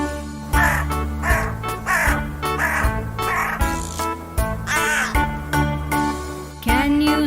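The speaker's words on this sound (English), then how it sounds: "Can you hear the black crow?" A black crow caws repeatedly, about eight harsh calls in a steady rhythm, close and loud over a continuous musical background.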